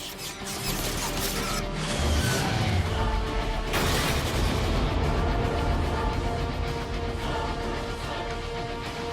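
Heavy weapons fire aimed at tow cables in Transformers: Fall of Cybertron, a sustained loud barrage of booms and crashing impacts over a dense roaring mechanical din, with a sharp burst around the middle.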